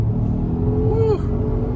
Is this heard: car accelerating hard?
yes